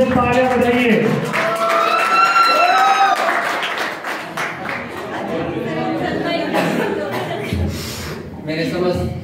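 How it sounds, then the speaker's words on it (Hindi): An audience at a school farewell ceremony claps in a loud, sustained burst, with chatter and voices mixed through the applause. "रोहित मीणा के लिए एक बार जोर से तालियां बजाइए"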